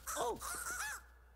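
Crows in the video game Luigi's Mansion 3 give several harsh, wavering caws in quick succession, close and loud, then break off into quiet.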